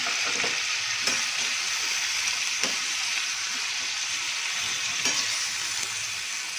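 Tomatoes and onions sizzle steadily in a pan, with occasional scrapes and clinks of a spoon stirring them, close by.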